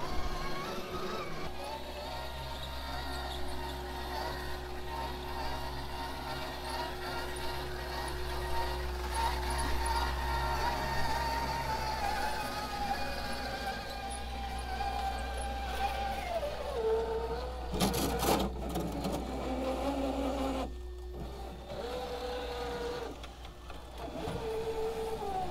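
Axial SCX-6 RC crawler driving a trail, a steady low electric motor hum and gear whine sustained throughout, with brief mechanical clatters and a short pause near the end, close and moderate in level.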